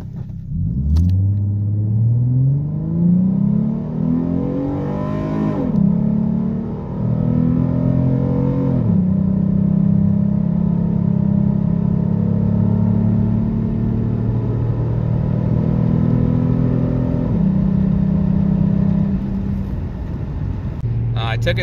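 A Ford Mustang with a tuned 3.7 V6 accelerates in drive, its engine note climbing through several automatic upshifts with brief dips between gears, then settling into a steady, fairly loud drone from inside the car.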